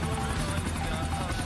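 Steady, loud rotor drone of a helicopter setting down in GTA 4, a continuous low throbbing hum filling the whole moment with no speech over it.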